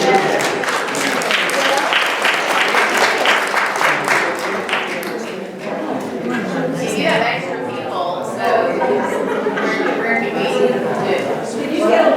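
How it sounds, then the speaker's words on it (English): A room of people applauds with close, busy clapping, strongest early on, while voices keep talking and chattering over and after it. "give these people a round of applause"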